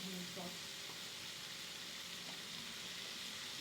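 Coriander powder masala is stirred in a frying pan, a steady hiss of sizzling oil with soft scraping strokes of the spoon running throughout.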